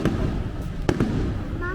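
Stick rocket fireworks exploding outdoors in a city in El Salvador, two or three sharp bangs of varying distance over busy background noise, with people talking nearby.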